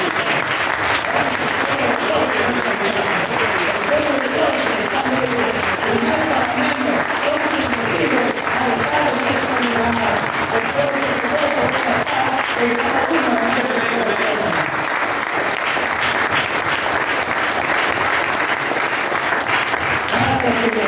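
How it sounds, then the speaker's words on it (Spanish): A church congregation at a resurrection service breaks into loud, sustained applause that fills the space for about twenty seconds, with voices mixed into the clapping. "Denle un fuerte aplauso"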